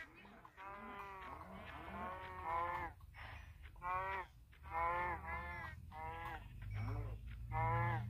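Minecraft cows on a farm in a survival game, mooing repeatedly in a steady run of overlapping low calls, close and fairly loud, with no talking.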